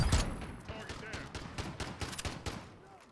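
Automatic machine gun fire in the Call of Duty Modern Warfare beta, a quick steady string of loud close shots rattling over a few seconds.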